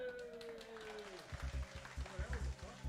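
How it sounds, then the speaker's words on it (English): A live studio audience at a quiz show breaks into clapping about halfway through, a burst of scattered hand claps rising after a tonal musical sting fades, with the applause continuing to the end. "they're even clapping for you in our live, actually here studio audience"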